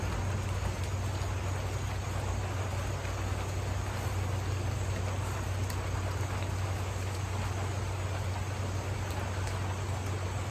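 Steady, dense rain falls outdoors, producing a continuous even wash of noise with no pauses and no voices.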